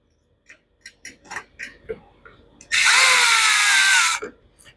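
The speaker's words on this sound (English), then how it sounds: "if you do this with a screw gun, don't do it with one unless you're very familiar with it" A screw gun driving screws into a lawn mower, one loud sustained whirring burst of about a second and a half after a string of small clicks and handling taps, close up with no talk.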